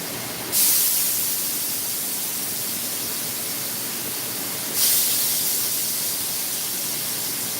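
Chicken hits a hot pot over medium heat with a sudden loud sizzle, then settles into a steady hiss; a second burst of sizzling follows a few seconds later.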